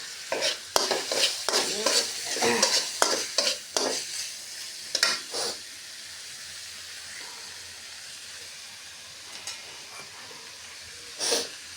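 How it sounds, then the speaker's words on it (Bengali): Prawns stir-fried with garlic and onion paste in a pan, heard as a quick run of close spatula clatters and scrapes over a soft sizzle, then a quieter stretch with a few more stirs, no talk. "চিংড়ি মাছগুলোকে আমি সুন্দর করে কষিয়ে নিচ্ছি"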